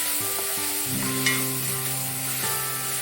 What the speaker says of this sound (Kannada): ಸರಿ ಎಣ್ಣೆ ಕಾದ ನಂತರ ಒಂದು ಈರುಳ್ಳಿ ಹಾಕಿದ್ದೇವೆ